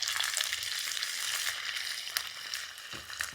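Ginger frying in hot oil together with mustard seeds and fenugreek for a chicken pickle, a close, bright continuous sizzle with scattered pops and crackles and no talking.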